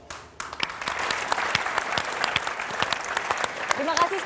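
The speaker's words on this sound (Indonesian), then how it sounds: "Tepuk tangan sekali lagi ya" A live audience applauds at an Indonesian motivational seminar, the clapping rising after a brief quiet start and holding steady and loud, with a voice briefly heard near the end.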